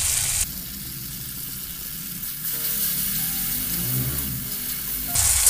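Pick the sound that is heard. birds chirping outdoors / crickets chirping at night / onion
onion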